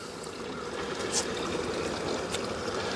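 Steady pouring and trickling of 1-to-1 sugar syrup into a bee feeder, a continuous wash of watery noise at close range with a couple of faint clinks.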